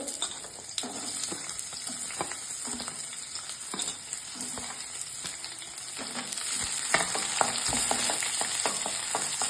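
Onions and curry leaves sauté in a hot pan, giving a steady oily sizzle broken by the scrape and clatter of a spoon stirring, close and clear.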